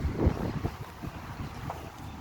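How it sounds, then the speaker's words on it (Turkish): Gusty wind buffeting the microphone with low rumbling thumps, steady and fairly quiet, with water-like noise underneath. "Rüzgar çok fena. Rüzgar bizi mahvedecek."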